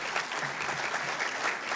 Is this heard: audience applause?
yes